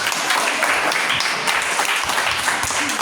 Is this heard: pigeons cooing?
no